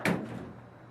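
A single door thuds shut nearby, a short soft impact followed by a fading rumble, with no talking.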